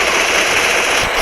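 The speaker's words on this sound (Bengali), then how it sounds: "গুলি করো রিজা তুমি এত লেট করে লইব" Rapid burst of automatic gunfire in the mobile shooter game Free Fire during a 4v4 custom match, loud and continuous with no pauses over a brief moment.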